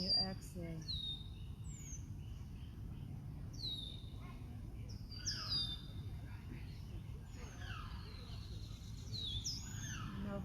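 Birds in a park give repeated chirps and sweeping whistled calls, light and fairly close, over a low murmur of distant background noise. The calls come in scattered bursts throughout, with no one speaking.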